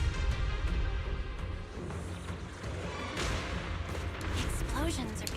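Blasts from a cocoon in the video game Zenless Zone Zero boom in repeated heavy explosions, with rumbling impacts and crackling bursts over a dense battle din. Voices talk over them.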